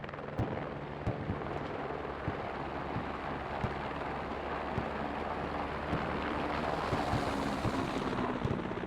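Military helicopter setting down in the Squad combat video game, a loud continuous rotor and engine drone with repeated sharp thuds and cracks of gunfire over it that grows slightly fuller toward the end.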